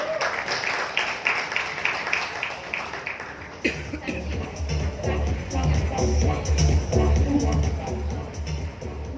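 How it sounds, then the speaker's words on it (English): Press conference audience bursts into applause, dense clapping building loud and steady with crowd murmur mixed in, following a stretch of amplified talk. "Please do give them a big round of applause, ladies and gentlemen"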